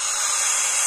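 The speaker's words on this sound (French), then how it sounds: "spray" A short, steady burst of hissing from a spray bottle at a hair salon, bright and airy, lasting under a second with no talking.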